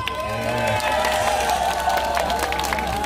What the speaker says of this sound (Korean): 살살 다시 박수 한번 주세요